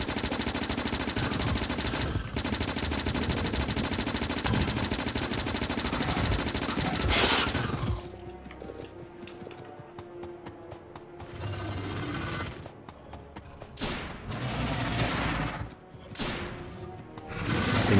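Rapid, dense machine-gun fire from the video game Factorio shoots at biters that split into smaller biters. The fire is loud and continuous for several seconds, then breaks into shorter, sharper bursts.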